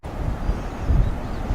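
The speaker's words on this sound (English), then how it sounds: "It's awful windy out here too." Strong gusts across the Columbia River Gorge buffet the microphone in a steady low roar, swelling and easing in uneven pulses with no voices present.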